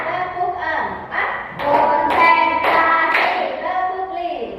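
Children in a third-grade classroom clap a counted rhythm together, with rounds of sharp group hand claps alternating with chanted voices in a rhythmic back-and-forth.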